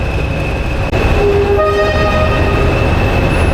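Two loud Class 20 diesel locomotives rumble steadily nearby at a station platform, with a brief dip then a sustained throbbing drone and tonal whine as they pull away.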